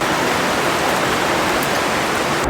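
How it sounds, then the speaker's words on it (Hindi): Heavy rain driven by strong wind in the mountains, a dense, constant roaring hiss of downpour and gusts, loud and unbroken throughout. "हवा हो रही है बहुत तेज़ और उसके साथ बारिश भी आ रही है भयंकर वाली उड़कर"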